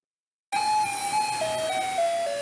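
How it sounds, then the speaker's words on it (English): Garbage truck in Taipei playing its tinny electronic melody over a street, a steady chiming tune starting abruptly and carrying on with gentle note changes against faint background noise. "This is the sound of a garbage truck in Taipei"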